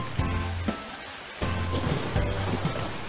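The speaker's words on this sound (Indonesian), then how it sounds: "Musim hujan pun akhirnya tiba." Steady rain pours down as the rainy season arrives, a dense continuous hiss of drops on surfaces with a few heavier splashes, loud and close with no voices.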